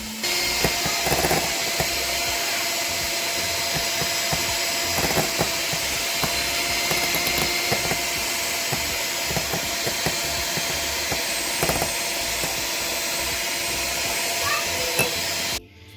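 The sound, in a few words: beating whipped cream with milk using a mixer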